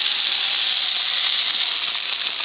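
Wontons fry in hot oil with a steady, close, bright sizzle, a continuous crackling hiss with tiny pops and no talking over it.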